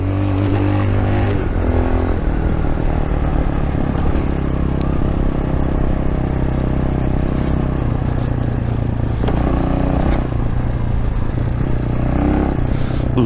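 A Magician 250 motorcycle riding off-road on trails and sand, its engine droning loudly and continuously with shifting revs and rattling clatter from the rough ground, heard from on the bike.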